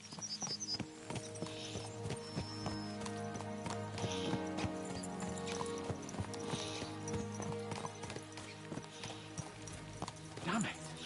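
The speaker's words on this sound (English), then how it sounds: "Let's really spur these horses on, eh?" Horses gallop in Kingdom Come Deliverance 2, a steady run of hoofbeats with an occasional whinny, set within game music and ambience, with a voice talking over it.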